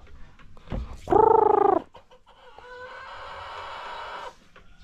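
A Dekalb Brown rooster gives a loud, drawn-out crowing call, followed by softer clucking and background farmyard noise.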